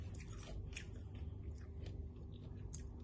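A crunchy fried scorpion from a Bangkok street food stall is bitten and chewed close up, with repeated soft crunches and wet chewing in an irregular rhythm over a low background hum.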